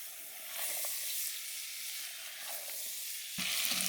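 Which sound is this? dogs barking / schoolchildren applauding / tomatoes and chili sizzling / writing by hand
tomatoes and chili sizzling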